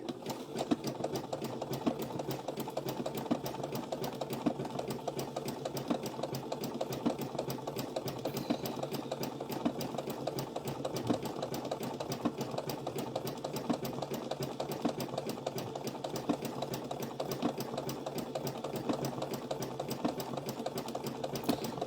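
A sewing machine stitches appliqué onto a bunny dishtowel, running in a steady, continuous mechanical whir with a rapid needle rhythm, close and even throughout with no talking.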